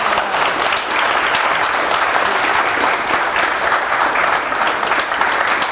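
Loud, sustained applause from an audience, an even wash of many hands clapping without a break for several seconds.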